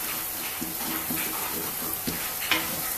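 Intestine and chopped onion sizzle and fry in a pan while being stirred, with steady frying hiss and intermittent scraping clicks of a utensil, no talking.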